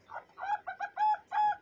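A tame zebra dove (perkutut) cooing up close, a short run of five or six rounded, rhythmic coos in a clear, steady pattern with nothing else behind.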